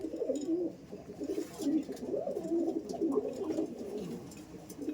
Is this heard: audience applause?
no